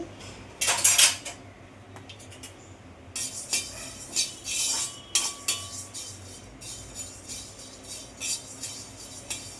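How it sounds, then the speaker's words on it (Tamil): Coriander seeds and other spices for prawn masala dry-roasting in a kadai, with repeated metallic clinks and scrapes of a spoon against the pan coming in irregular close bursts. "எறாக்கு தேவையான மசாலாலாம் வறுத்து எடுத்துக்கலாம் வாங்க."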